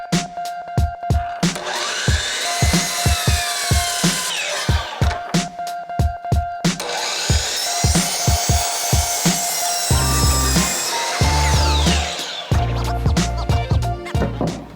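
A power saw cuts wooden legs and a brace for a folding mountain-bike kicker ramp, delivering loud, rhythmic rasping strokes in quick repeated bursts, then a heavier grinding stretch near the end.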